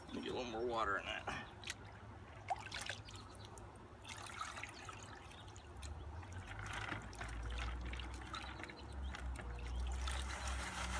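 Water poured and sloshed into a gold pan holding hard-packed dirt and gravel, with trickling and splashing under a man's speech, then a steadier low wash of moving water.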